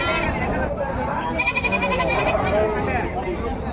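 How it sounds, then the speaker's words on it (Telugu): Goats bleat several times at the Gudur livestock market, wavering calls rising over a steady crowd babble and nearby talking. "ఇవి వచ్చేసి మేకపోతులు."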